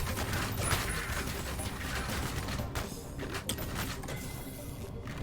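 Rapid gunfire in the shooter Ion Fury, a continuous dense stream of shots with mechanical clatter, loud and close throughout, no pause.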